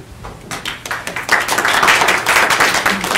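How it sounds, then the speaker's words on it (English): Live audience clapping after a funding guidance talk, a close, dense burst of applause that builds quickly and stays loud throughout. "You don't have to clap."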